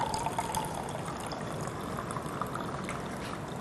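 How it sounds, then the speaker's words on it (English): Cold water pours steadily into a red container during a science lesson on mixtures, a continuous close splashing rush that holds at an even level throughout with no talk. "So the first red container, I am pouring the cold water."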